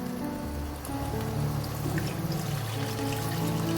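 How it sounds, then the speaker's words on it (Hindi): Water is poured into a pot of chicken biryani with soaked rice, making a continuous splashing, bubbling pour that swells slightly midway, close and steady throughout. "और इसमें तकरीबन 1 कप और हम पानी का ऐड कर देंगे।"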